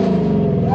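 A diesel Land Rover Defender engine revs hard and steadily, a loud low rumble rising slightly in pitch, with a voice faintly underneath.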